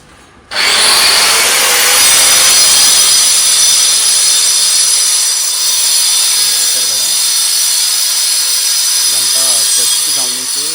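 Workers cut stone with a power cutter at a 15-storey tower construction site. A loud, continuous high-pitched grinding whine starts abruptly and holds steady, with faint voices surfacing beneath it toward the end.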